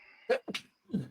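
One person lets out a quick burst of sneezes, near and fairly soft, three short bursts in about a second against a quiet room.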